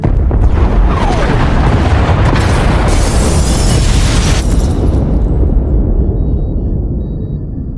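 Massive explosions tear through starship pod bays in a sci-fi game, a dense, roaring blast and rumble that fills the space for several seconds before slowly fading into a low tail, with no voices.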